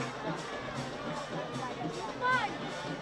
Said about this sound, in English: Crowd present here today.